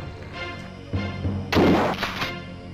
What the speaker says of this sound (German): Wir könnten jetzt die Winchester nehmen und benutzen und auf ihn drauf schießen.